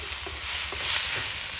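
Chili bean paste stir-fried in a wok with pork, a steady hiss of sizzling oil with soft, scraping spatula strokes rising and falling, close and alone with no talk.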